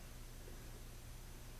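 Steady low electrical hum from a rebuilt Drake AC-4 power supply, a continuous faint drone with a broadband hiss layered over it, unchanging throughout with no talking.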